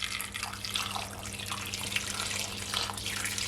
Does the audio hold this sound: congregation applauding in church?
no